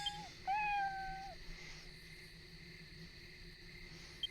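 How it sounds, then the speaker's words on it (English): A cat in a video game gives a short, clear meow when petted, a single brief call over a quiet ambient hum. "Pet a kitty."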